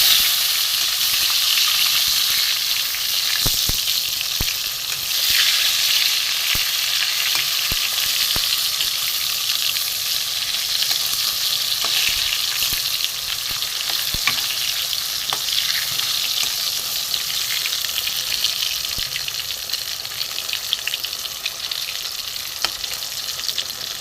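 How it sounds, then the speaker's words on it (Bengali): Turned brinjal pieces fry in mustard oil in a kadai, a dense continuous sizzle held close and steady throughout, with occasional light ticks and scrapes of a spatula and no one talking. "বেগুনগুলো আমি উল্টে দেবো।"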